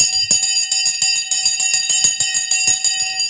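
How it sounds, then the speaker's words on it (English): A live stock market opening bell rings loudly and steadily, its rapid metallic strikes repeating over several seconds as a continuous electric clang. "It's a live bell."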